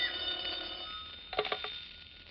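Telephone bell ringing in an old radio drama episode of This Is Your FBI, a clear tonal ring with steady harmonics followed by a short burst of quick rattling strikes, moderately loud and alone.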